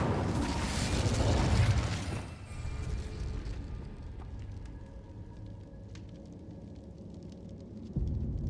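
A loud Incendio fire spell erupts in Hogwarts Legacy, a roaring fiery blast lasting about two seconds, then fading into crackling, ticking embers with a low rumble before another whoosh starts at the end.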